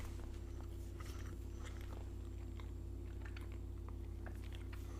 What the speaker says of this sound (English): I apologize if you can hear me smacking.